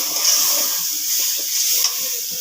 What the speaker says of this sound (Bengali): হলুদ গুঁড়ো ভালো করে নেড়ে চেড়ে নিলাম সামান্য একটু পানি দিয়ে দেবো মশলাটা পাঁচ মিনিট কষিয়ে নেব